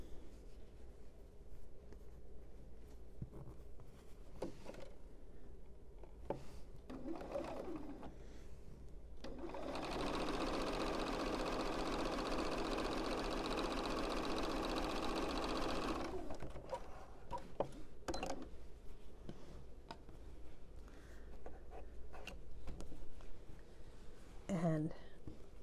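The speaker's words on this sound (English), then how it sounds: "now we're going to sew the short oddball one" A sewing machine runs steadily for about six seconds while stitching a quilt seam on an autumn postcard quilt, loud and close. Quieter handling noises and faint speech-like sounds come before and after the stitching.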